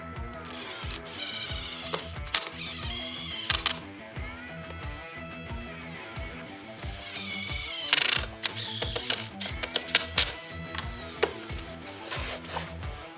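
A 24-inch clamp is ratcheted tight on freshly glued workbench cross pieces, producing a close series of clicking ratchet bursts with woody knocks and rattles between them, loud and without speech.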